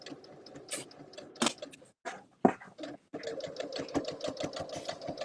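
Sewing machine chain piecing fabric, its needle running in quick rhythmic bursts with short pauses between seams, close and fairly quiet, with a voice speaking briefly in the background.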